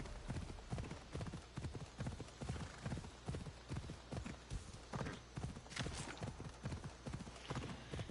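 Horse hooves clip-clop in a fast, steady rhythm while riding in Assassin's Creed Odyssey, close and continuous over a low background, with a brief whinny-like sound near the middle.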